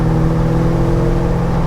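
A Mercedes 500 SEC from the 1980s holds a steady, loud engine rev close by, a continuous mid-pitched mechanical drone with no talk over it.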